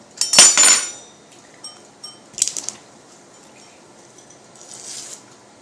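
A metal knife scrapes and clinks against a measuring cup while leveling pancake mix, one sharp clatter followed by a few quieter taps and scrapes, close and otherwise quiet.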